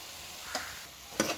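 Mutton curry with large cubes of potato and vegetables sizzling in a pan, with a steady soft fry hiss and two brief scraping bursts as the mixture is stirred.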